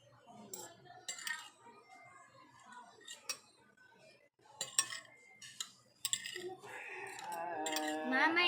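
Spoon and fork mixing pancit canton noodles in a dish, with scattered metallic clinks and scrapes at an irregular pace and a soft voice talking underneath toward the end.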